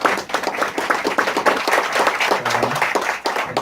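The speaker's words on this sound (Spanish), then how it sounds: "Un aplauso para Lucas." Dense applause and clapping from a seated audience welcoming Lucas García to a talk, steady and fairly loud for the whole stretch, with a brief murmur of voices near the end.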